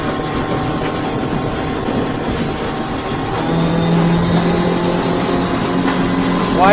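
A Yamaha F70 outboard on a Stabicraft 1550 runs at wide open throttle, a steady droning engine roar with wind and water rush, rising slightly partway through.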